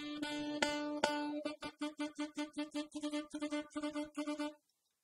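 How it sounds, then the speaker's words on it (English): Alto saxophone playing a run of separate tongued notes, each short note crisply articulated in a quick steady rhythm, close and clear with no talking, ending in silence. "using my tongue to separate the notes allows me to enunciate"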